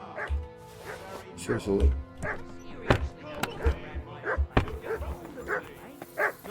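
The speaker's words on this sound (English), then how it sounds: "Call that dog, Henry. Who the hell can listen to that?" A dog in the video game Kingdom Come Deliverance II barks and yips repeatedly in an irregular rhythm, some barks sharp and close, mixed with whimpers while a person talks over it.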